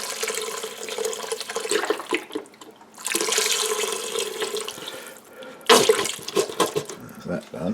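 Shop-bought vegetable stock splashes into a soup pot for polenta and pearl barley soup, coming in several gushing bursts with short pauses between pours.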